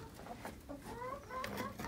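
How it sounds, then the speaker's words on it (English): A chicken in a homestead coop clucks in soft, uneven bursts across a couple of seconds, fairly close and not loud, with light background noise and no talking. "And this chicken comes hopping out of there"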